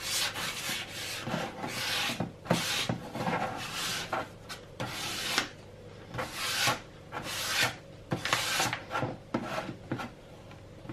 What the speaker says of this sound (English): Obviously don't press down too hard, just let the sandpaper do the job.